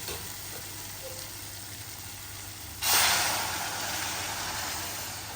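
Low background hum, then at about three seconds a sudden loud hiss and rush as hot water is poured into sizzling spice-tempered oil, tapering to a steady bubbling sizzle.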